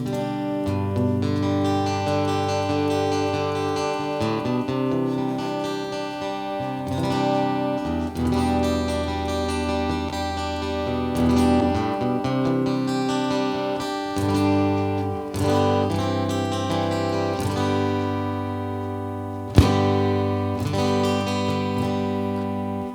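A Donner Hush I Pro travel guitar strums and picks chords through a shimmering, thick chorus effect, playing continuously for a while, with one sharp pop from a wireless unit near the end.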